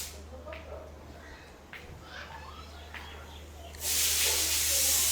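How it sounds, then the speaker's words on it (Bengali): Quiet room sounds with distant voices, then a loud, steady hiss of steam bursts out from a pressure cooker near the end. "কাকি কি রান্না করতেছে প্রেশার কুকারে দিয়ে"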